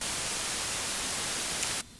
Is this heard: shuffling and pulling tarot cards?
no